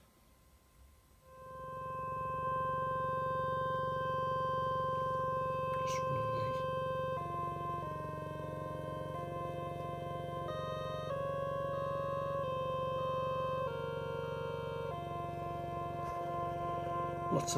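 A modular synthesizer patch plays sustained tonal notes with stepping pitch changes, loud and steady throughout after a quiet start, with no talking.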